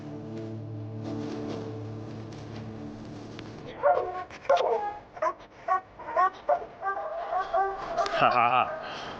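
Hunting dogs on a cat's trail in northern wilderness woods bark in repeated short bursts from the middle onward, following a steadier low droning start.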